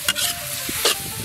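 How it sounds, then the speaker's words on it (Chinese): Sliced pork tripe hitting a hot wok with oil, scallion, ginger, garlic and chilies, a brief close sizzle with a couple of quick spatula scrapes. "炒香以后下入切好的猪肚"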